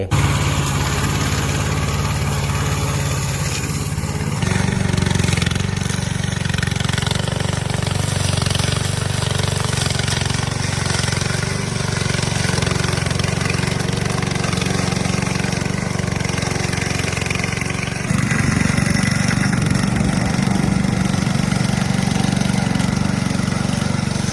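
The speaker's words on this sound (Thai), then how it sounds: "มาดูสมรรถนะ แล้วประสิทธิภาพของรถตัดหญ้าบังคับด้วยรีโมทกันนะครับ" A remote-controlled lawn mower's small engine runs steadily and loudly close by while cutting grass, with a rough mechanical chatter that shifts in load partway through and grows heavier near the end.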